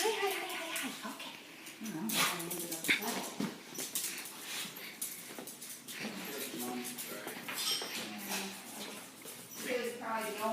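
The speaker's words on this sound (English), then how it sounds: "I'm just recording the dog," A dog whimpers and yelps in short bursts close by, with scrabbling paws and handling noises, while people talk over it throughout.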